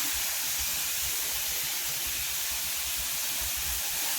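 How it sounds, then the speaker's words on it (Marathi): Chopped onion sizzles in a hot pan while being sautéed for moong soup, a dense, steady hiss that stays loud and even throughout, with no voices. "कांदा पण चांगला परतून घ्यायचा।"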